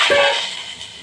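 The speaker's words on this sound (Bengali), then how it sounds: "প্রথমে আমি দুধ একটা বাটির মধ্যে দুধ দিচ্ছি" Milk poured into a bowl at home while preparing oats, a steady close liquid splash and trickle lasting about a second with no talking over it.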